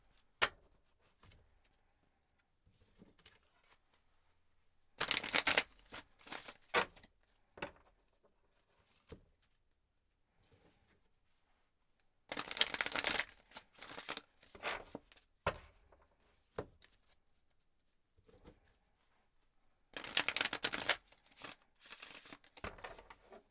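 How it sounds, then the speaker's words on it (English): Tarot cards get shuffled in three loud bursts of riffling and flapping, each a few seconds long, separated by quiet stretches of faint handling. "I'm going to shuffle until something pops out"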